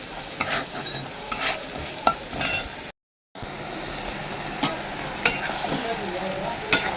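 Bottle gourd curry (lau ghonto) with salt, turmeric, green chilli and five-spice cooking in a pan, a continuous sizzle with intermittent stirring scrapes, briefly cut by a short silent gap.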